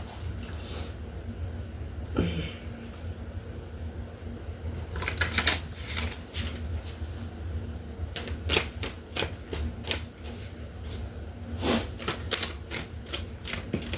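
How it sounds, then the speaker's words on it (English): Tarot cards being shuffled by hand, brief riffles early on and then a run of quick, close card flutters and snaps in the second half, with no one talking. "So let me grab a couple tarot cards."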